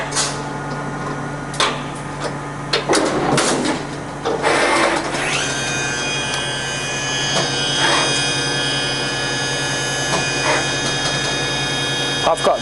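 Kira KPC-30b used CNC vertical machining centre running a simple program with the spindle at 8,000 rpm, a steady high whine with mechanical clunks and bursts of cutting noise over a constant hum.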